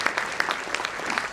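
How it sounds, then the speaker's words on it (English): Audience applause at a public economics lecture, a steady patter of many hands clapping at moderate level, alone without talk, spread evenly across the short moment. "So a warm clap for that."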